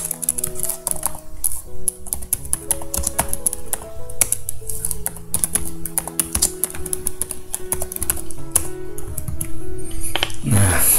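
Rapid, uneven typing on a computer keyboard, close and clear, with a dense run of clicking keystrokes and brief pauses.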